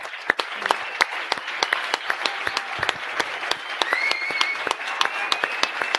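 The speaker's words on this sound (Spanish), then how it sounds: "ya le hemos dado un aplauso, pero le pido otro para ella muy cariñoso" An audience at a political rally in Madrid applauds the host Sarah Santaolalla, a steady sustained round of many hands clapping with a few sharper individual claps standing out, no voices in it.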